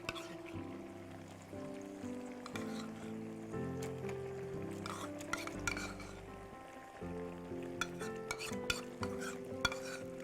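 Chicken and yogurt stirred in a cooking pot, with scraping and clinking of a spoon against metal and a light sizzle, heard under steady background music with a few sharper knocks.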